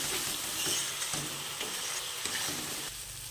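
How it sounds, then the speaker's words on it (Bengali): Steady sizzling of spices and ginger-garlic paste frying in a pan for chicken ghugni, with periodic scraping strokes of a spatula stirring, loud and close with no voices. "এবার এটাকে ভালোভাবে কষিয়ে নেব"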